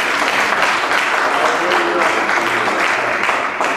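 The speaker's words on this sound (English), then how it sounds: "give God a hand clap of praise" A church congregation at a Good Friday service claps in praise, a loud, close, continuous burst of hand claps filling the room throughout, with no voices standing out.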